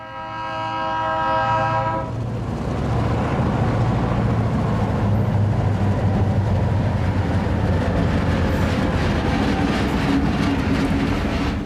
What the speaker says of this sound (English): At Ames, 2 GP38s in their original C and NW livery pull a loaded coal train to Boone